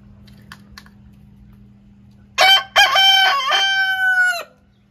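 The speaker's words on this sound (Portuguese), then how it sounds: "E o galo tá aqui cantando" A rooster crows once, close and loud, in a long harmonic cock-a-doodle-doo of about two seconds that starts with choppy bursts and ends in a sustained call. It follows a quiet stretch of faint background ticking and hum.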